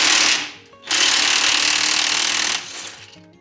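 DeWalt impact gun loosening a bolt on a Nissan 3.3L V6, two loud, close hammering bursts, a short one and then a longer run of almost two seconds, with a brief pause between them.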